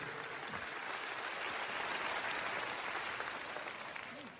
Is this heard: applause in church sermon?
yes